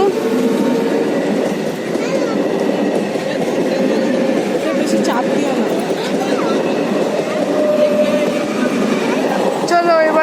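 A moving passenger train gives a continuous loud rumble and rattle from inside the carriage, with people talking over the noise throughout.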